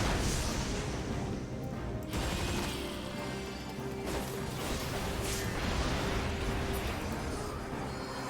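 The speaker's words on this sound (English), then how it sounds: "Okay, the explosions aren't too large. That one will be terrifying." Dense, continuous game soundscape from Final Fantasy XIV with rumbling blasts and crashing impacts, steady and loud throughout, with no clearly separated single explosion.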